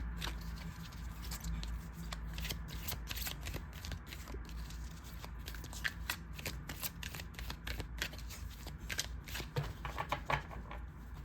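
Cards being shuffled in a steady run of crisp riffling flutters and snaps, close and continuous with no talking.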